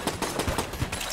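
Rapid gunfire from a gun in Enter the Gungeon: a steady string of evenly spaced shots at moderate loudness, with no talk over it.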